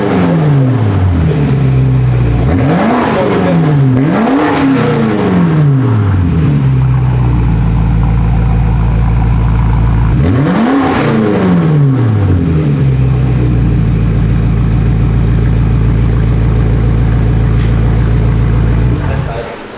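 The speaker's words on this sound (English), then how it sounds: "That's a straight pipe, just straight pipe. No mufflers, no resonators, nothing. It's gonna sound stupid loud." A BMW G99 M5 fitted with straight-pipe downpipes and no mufflers or resonators revs hard several times, each sharp climb and fall loud and close, settling into a deep rumbling idle between blips.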